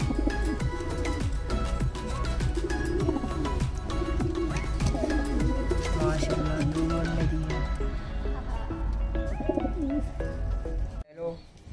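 Many pigeons coo and burble together in a dense, busy chorus close by, with scattered clatter and flapping mixed in.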